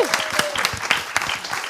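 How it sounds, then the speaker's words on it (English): An audience at a One Young World ocean conservation panel at COP26 breaks into steady applause, dense clapping throughout with a voice briefly over it. "It was just an appropriate moment to give her a bit of applause."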